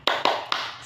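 Three sharp hand claps in an uneven rhythm for a classroom cheer, close and crisp, each with a short ringing tail, with no talking.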